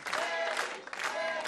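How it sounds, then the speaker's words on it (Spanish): Audience applause for Kevin, a singer on a Saturday-night televised singing show, with a steady wash of clapping and crowd noise carrying through the short moment with a brief dip partway. "¡Más fuerte el aplauso para Kevin!"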